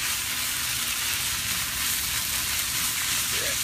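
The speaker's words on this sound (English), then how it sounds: "Press them down, shake them up. Or what they call stir fry" Short rib chop chae stir-frying in a hot pan, a dense continuous sizzle and crackle, close and loud from start to finish with no talking.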